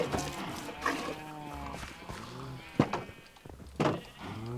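Minecraft cows give several drawn-out, low mooing calls, close and fairly loud, with a person talking over and between them.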